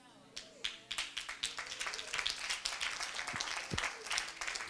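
Scattered clapping at a church sermon begins with a few sharp individual claps and grows into fuller applause from the congregation, with a voice speaking over part of it.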